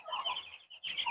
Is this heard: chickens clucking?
yes